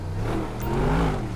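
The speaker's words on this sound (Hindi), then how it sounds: "ओ ब्रो क्या साउंड कर रही है ये गाड़ी" A Bugatti Veyron's engine revs in a video game on a test drive, a loud, close, rising and falling roar that swells toward the middle without voices over it.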